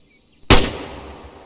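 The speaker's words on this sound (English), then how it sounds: "When you're ready, put some rounds down range." A single sharp rifle shot in the ArmA 3 military game, loud and close, cracking suddenly out of near silence and trailing off in a long echoing tail.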